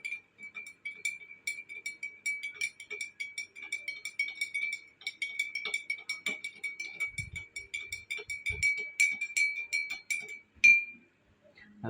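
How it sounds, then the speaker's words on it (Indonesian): A spoon stirs a drink in a glass, giving quick, rhythmic bright clinks and a ringing tone that run steadily for about ten seconds before a final knock, close and quiet with no voices. "Oh ya, lupa, kita aduk dulu lah ya gitu."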